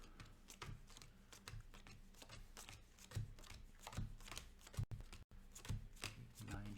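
Playing cards dealt out one by one for the card-drafting board game It's a Wonderful World, quiet irregular taps and slaps on a table in a steady rhythm.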